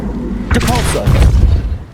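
Depulso force spell in Hogwarts Legacy, a sudden forceful blast with a warbling magical whoosh cutting through constant battle rumble, brief and close.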